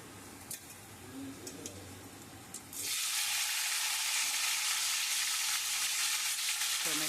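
Cumin seeds stir in oil with a few soft clicks, then tomato hits the hot oil and sets off a sudden, loud, steady sizzle that runs to the end, with no talking, for a vegetarian potato curry.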